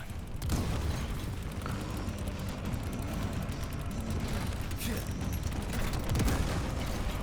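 A hand grenade explodes in Resident Evil 4 Remake with a deep boom near the start, followed by rumbling debris and scattered pops and thuds that carry on at moderate level amid game noise.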